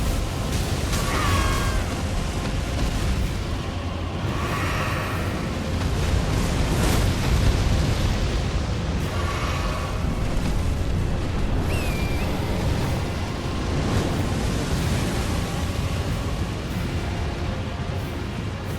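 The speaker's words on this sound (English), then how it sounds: "There's a lot of fire happening, and it needs to stop." Fire roars and blasts rumble continuously in Elden Ring: Shadow of the Erdtree, a loud, dense wash of noise with a few brief high creature cries.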